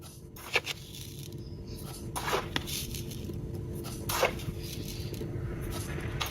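A spoon scrapes and clinks against a bowl while stirring granulated sugar into pudding ingredients, with a few sharper taps standing out over a soft, steady background of stirring.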